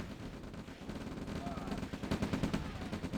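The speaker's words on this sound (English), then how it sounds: "my tanks are gunning down their tanks" Tank cannon fire in the real-time strategy game OpenRA Red Alert, with tanks trading shots against enemy armor in a dense, continuous battle din of overlapping blasts that grows busier and louder toward the end.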